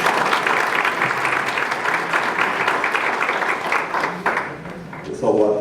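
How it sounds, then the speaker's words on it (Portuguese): Applause from a conference audience, loud continuous clapping that thins out toward the end, when a voice briefly comes in. "Uma salva de palmas para ele."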